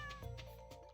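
A single short cartoonish meow from a cat in the Stardew Valley farming game, faint and quick.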